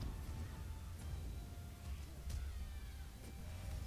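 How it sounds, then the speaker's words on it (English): Cat meowing in a video game, a sneaky kitty heard as a few faint, short calls over a dense, continuous game background ambience, with no talking. "Sneaky kitty."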